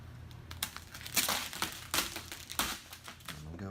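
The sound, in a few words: knife trimming gloss black vinyl wrap on car roof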